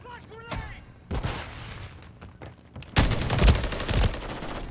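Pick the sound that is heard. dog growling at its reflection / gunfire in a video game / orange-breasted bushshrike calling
gunfire in a video game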